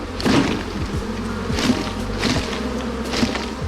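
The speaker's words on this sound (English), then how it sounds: "So that's the main bunch of bees." A swarm of honey bees clusters in a tree, a steady close buzzing drone filling the air with small fluctuations, no voices.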